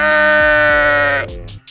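A sheep gives one loud, close bleat that wavers for over a second before breaking off, followed by a couple of faint short sounds.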